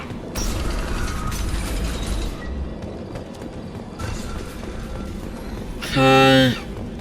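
A sci-fi door mechanism in Mass Effect 2 grinds open with a loud, ratcheting mechanical whir lasting about half a second, rising clearly above ongoing background game noise and a voice.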